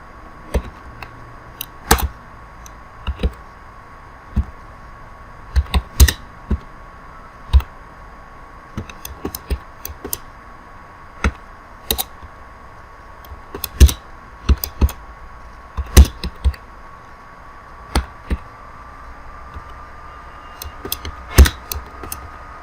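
Computer keyboard typing text into a footer heading text box during a document layout task, with irregular bursts of crisp clicking keystrokes and pauses between them, close and clear over a faint steady background hum.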